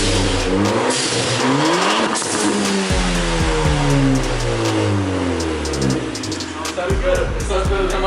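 A Ford Fiesta ST with a Cherry Bomb muffler in place of the resonator and 3-inch piping revs repeatedly through its exhaust, loud and close, the pitch climbing and falling in several throaty sweeps.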